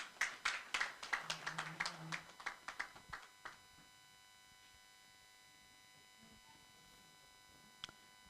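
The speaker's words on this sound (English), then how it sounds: "A stronger, more round of applause" Sparse clapping from an audience at a university event fades out after about three seconds, followed by near silence and one faint tap.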